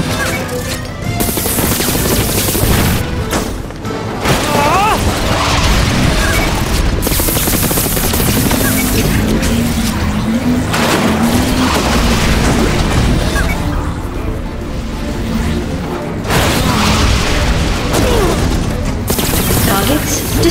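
Cars 2 video game racing combat, with dense, continuous explosions and machine-gun fire, booming blasts and crashes that keep going with only short gaps, loud throughout.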